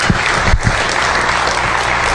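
Loud, dense applause from a conference audience after a keynote fills the whole stretch, a continuous wash of many hands clapping with a few louder individual claps standing out.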